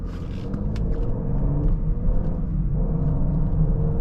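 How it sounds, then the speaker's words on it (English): 2022 Lincoln Aviator Reserve with its roughly 400-horsepower engine accelerating, a steady low rumbling engine note with rising harmonic tones heard from inside the cabin, no talking. "This is like a luxury Ford Explorer ST, and the engine sounds really good too."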